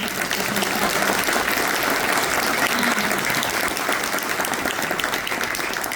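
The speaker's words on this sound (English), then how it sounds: "Can we give them a round of applause for" Steady round of applause from an audience for staff at a swearing-in ceremony, dense and even clapping held at a constant level for several seconds, no talking over it.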